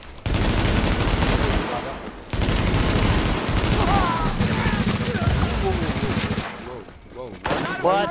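Sustained rapid gunfire from The Division's Dark Zone, dense bursts of automatic shots with brief pauses, loud and close, with players shouting over it.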